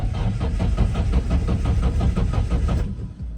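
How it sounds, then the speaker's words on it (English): Nissan S13 being cranked over, a rapid rhythmic chugging of the starter turning the engine that repeats steadily for about three seconds without catching, then cuts off, loud and close. "let's see if the fucking car will start."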